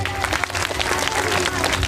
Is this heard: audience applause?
yes